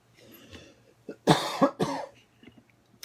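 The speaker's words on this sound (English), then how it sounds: "Pardon me to those that just saw me cough on Facebook" A couple of sharp, close coughs in quick succession, loud against a quiet background with a faint low hum.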